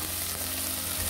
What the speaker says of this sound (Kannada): ಈ ನುಗ್ಗೆಕಾಯಿ ಹಾಕೊಂಡ್ಮೇಲೆ ಎಣ್ಣೆಯಲ್ಲಿ ಚೆನ್ನಾಗಿ ಫ್ರೈ ಮಾಡ್ಕೋಬೇಕು